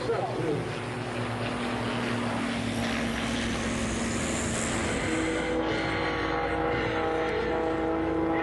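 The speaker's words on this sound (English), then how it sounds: "He is flying his 1956 deHavilland Chipmunk, which has been specially modified for air" A 1956 de Havilland Chipmunk, specially modified, flies aerobatics at EAA AirVenture, its propeller engine droning steadily and fairly loud, with pitch shifts as it maneuvers and a crowd murmuring beneath.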